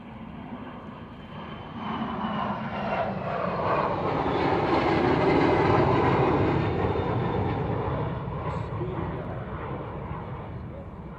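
A display aircraft leaves an airshow at the Royal International Air Tattoo, its engine roar swelling into a loud, sustained rumble and then slowly fading as it departs.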